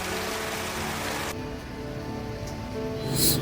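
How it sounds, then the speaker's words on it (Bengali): Heavy rain pours outside a stopped Volvo sleeper bus, a steady broadband wash drumming on the surfaces throughout, with no talk over it. "দেখো কি লেভেলের বৃষ্টি, এইরকম বৃষ্টি হচ্ছে"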